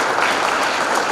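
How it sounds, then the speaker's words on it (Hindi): Audience applause welcoming a guest at a Hindi poetry gathering and birth-anniversary celebration, a steady wash of many hands clapping at once, loud and close, sustained throughout without a break. "तालियों से स्वागत बनाएं"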